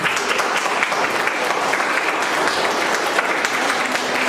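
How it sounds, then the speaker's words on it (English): A room full of guests at an art exhibition opening claps in a dense, steady round of applause that holds evenly throughout, with no talking over it. "Can everyone give them a round of applause,"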